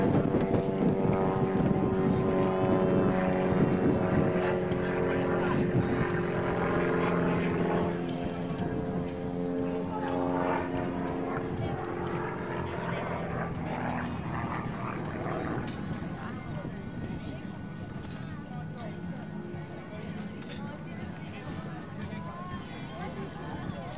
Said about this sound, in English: Notice the performance Chuck gets out of that F-260 Warrior.